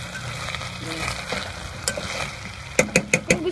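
Braised baby potatoes sizzle in a pan on a portable gas stove while sugar is stirred in. A steady frying hiss carries irregular scrapes, then a quick run of four rhythmic stirring strokes near the end.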